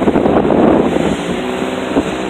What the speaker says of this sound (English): I don't know if you're going to be able to hear me over the wind.